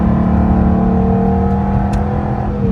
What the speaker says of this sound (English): just listen to that V12 engine